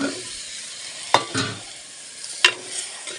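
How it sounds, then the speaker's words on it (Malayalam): Drumstick (moringa) pieces sauté in a spiced pan with a light steady sizzle, broken by two sharp clacks of a spoon against the pan and brief stirring scrapes, close and clear. "ഇതിൽ കിടന്ന് ജസ്റ്റ് ഒന്ന് മൊരിയണത് മുരിങ്ങക്കായി കേട്ടോ"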